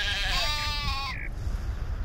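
A sheep in Black & White 2 gives a long, wavering bleat up close, followed by a shorter second call, over soft rumbling game ambience that continues after the bleating stops.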